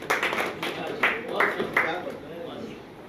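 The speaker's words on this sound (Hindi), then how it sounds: "जोरदार तालियां" Applause from an audience at a press conference for a Hindi comedy film, a short burst of scattered clapping that rises and fades beneath someone speaking.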